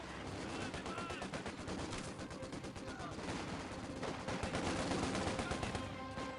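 Enemy infantry gunfire in the Company of Heroes 2 video game comes as dense, continuous bursts of rifle and machine-gun shots that rattle on for several seconds without a break.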